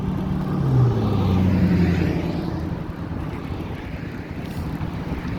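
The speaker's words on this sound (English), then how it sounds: "I'm facing a headwind, a stiff headwind" Stiff headwind buffeting a microphone while bicycling on Sanibel Island, Florida, a steady low roar with gusty rumble throughout, louder early and easing slightly, with no talk.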